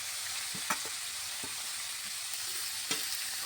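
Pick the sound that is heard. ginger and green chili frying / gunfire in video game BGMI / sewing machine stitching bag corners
ginger and green chili frying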